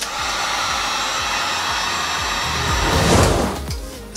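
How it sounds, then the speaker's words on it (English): A heat gun runs on a low heat and low speed setting to dry stencil paint on Christmas door tags, giving a steady loud blowing whoosh throughout that swells briefly near the end. "I read that you could use a heat gun, just a low heat setting and low heat speed"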